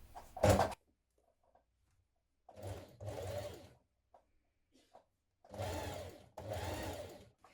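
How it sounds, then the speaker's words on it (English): A domestic sewing machine runs a small zigzag stitch on jersey fabric for a Burda 6602 top, close and clear: one short burst, then two longer whirring runs separated by silence, with no talking. "you can change to a zigzag stitch, make your stitch smaller and have it on a very small zigzag"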